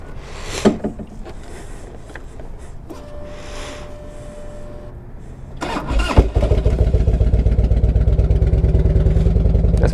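A 1998 Harley-Davidson Electra Glide Classic is started cold on a chilly day: quiet ticking and clicks, a starter crank, then the V-twin catches and settles into a loud, steady, lumpy idle.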